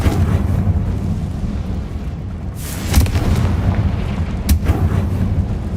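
Confringo fire-blast spells going off in Hogwarts Legacy: a loud, continuous rumbling bed broken by two sharp blasts, the first around the middle and another shortly after, with no talking.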